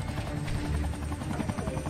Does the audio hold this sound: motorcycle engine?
no